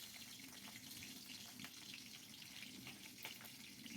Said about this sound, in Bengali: এবার এই তেলের মধ্যে আমি হাফ চামচ মতন কালো জিরে আর 2-3টে কাঁচা লঙ্কা মাঝখান থেকে চিড়ে দিয়ে দেবো ফোড়নের জন্য